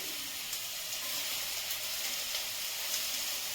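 Onion and capsicum fry in a pan with a steady, even sizzle and hiss that stays constant throughout, close and without speech.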